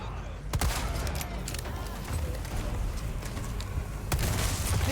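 Sharp booms and explosive bursts from Resident Evil 4 gameplay punctuate a noisy, busy game soundscape, with loud hits near the start and again toward the end.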